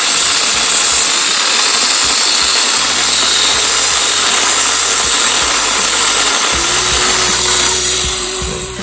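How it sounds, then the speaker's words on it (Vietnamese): A loud chainsaw runs continuously, its engine droning at high revs as it cuts firewood, then eases off slightly at the end. "Cưa rất là nhanh."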